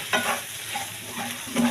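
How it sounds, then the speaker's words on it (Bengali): Garlic cloves and green chillies frying in a pan, a steady close sizzle with soft stirring scrapes running throughout and no voices. "এখন এটা একটু ভাজা ভাজা করব"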